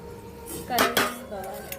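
Metal clatters as a lid goes onto a pot of turmeric chicken curry, two sharp clanks close together followed by a lighter rattle and a faint clink in a home kitchen.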